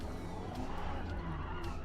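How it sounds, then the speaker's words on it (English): A car engine with skidding, squealing tires in Battlefield 6, a steady moderate engine drone with tire scrub running throughout, fairly faint and continuous. "I need to know how loud is the car engine"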